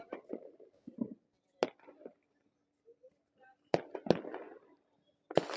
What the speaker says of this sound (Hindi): आसमान भी रंग बिरंगा धूम धड़ाकों के साथ आवाज